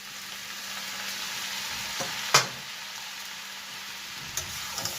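Egg noodles stir-fried with vegetables and spices in a hot pan give a steady, close sizzle with a sharp utensil clink partway through and a few light knocks near the end, with no talking.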